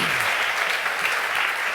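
A church congregation applauding, a dense steady burst of many clapping hands, loud and close, lasting under two seconds with no talk over it.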